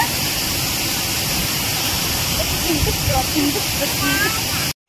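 The Usri waterfall in Jharkhand roars in a steady, loud, dense rush of falling water that fills the whole scene, with faint voices and small sounds in the background.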